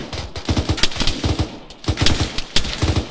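Gunfire from the video game Arma 3 rattles in loud, rapid bursts of close shots, with short gaps between volleys.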